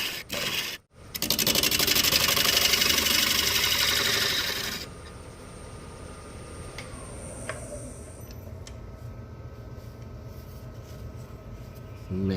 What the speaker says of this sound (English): take it slow with a carbide scraper just to be on the safe side